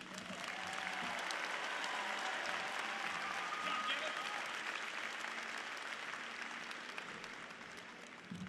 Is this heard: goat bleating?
no